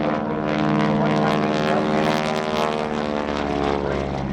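A propeller aerobatic plane flies a four-point hesitation roll at an airshow, its engine a loud, continuous droning roar that holds steady throughout with no pauses.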